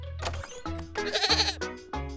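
A cartoon goat in a children's cooking cartoon lets out a loud, wavering bleat lasting about two seconds, with a warbling middle, heard alone without talk.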